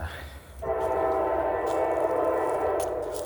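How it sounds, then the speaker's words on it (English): A train passes near a wooded spot, its sustained horn blaring loudly over a steady rumble of wheels on rail that continues for several seconds. "alright, well that's a train."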